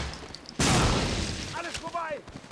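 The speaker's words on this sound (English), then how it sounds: "Explosion." A loud explosion blasts out in the World War II shooter Medal of Honor Frontline, a sudden broadband burst that decays over a second, followed by someone talking over the fading rumble.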